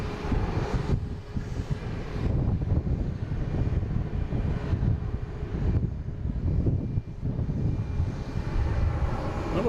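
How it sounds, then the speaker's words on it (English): American Airlines jet taking off from runway 9 at Boston Logan International Airport on a breezy afternoon, a loud sustained engine roar with broadband rumble and wind buffeting the microphone, no voices. "And also now we have American Airlines on 9 taking off,"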